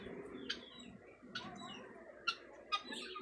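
Pigeons being given water in a loft make a few short, soft calls and rustles at intervals, close but quiet, over a faint background.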